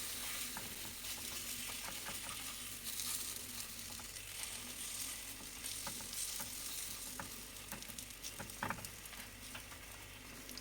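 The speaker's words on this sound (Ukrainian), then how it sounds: "І смажимо до готовності з двох сторін." Zucchini batter sizzles and crackles steadily in a hot pan, with occasional small pops and ticks, no talking.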